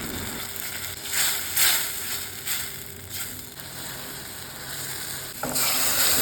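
Masala paste of spices, onion, garlic, ginger and tomato frying for chana masala, a steady sizzle with repeated scraping strokes of a spatula, growing louder at the end.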